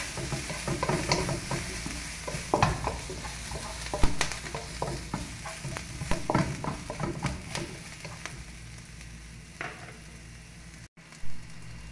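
Shrimp fry and sizzle in a pan for pancit canton while a utensil stirs and scrapes, a steady close crackle with irregular clanks and no talk.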